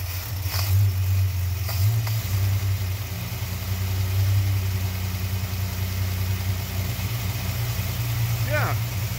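A Chrysler Slant Six engine idles after a valve lash adjustment, with a steady low rumble and a faint ticking valve train running throughout, while people talk over it.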